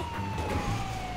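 Ambulance siren wailing steadily during a drive in the GTA 5 video game, a continuous high tone sitting over loud engine and road rumble for the whole short stretch.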